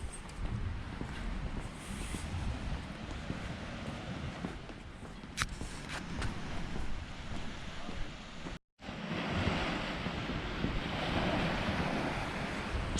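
Calm sea waves wash steadily along the promenade at Palmanova, a soft continuous surf heard close by, with light wind rumbling on the microphone throughout and a brief dropout partway through.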